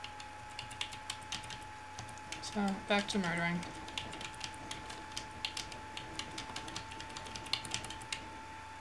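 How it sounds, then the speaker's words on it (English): Loud computer keyboard typing rattles on steadily and close, with rapid uneven key clicks through the whole stretch under a steady tone, while someone speaks briefly. "I'm clickety-clacketing with my keyboard, like usual."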